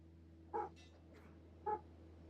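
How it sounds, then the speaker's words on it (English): Basset Hounds bark twice from another room, two short, muffled woofs about a second apart, faint and distant over a steady low electrical hum. "Apologies if you can hear the dogs."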